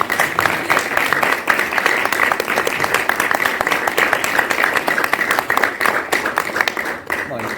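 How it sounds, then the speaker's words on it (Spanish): An audience at a film screening and debate claps for Racing fans, a loud, steady wash of applause that holds throughout before tapering slightly at the close. "darles un gran aplauso por ser hinchas de Racing"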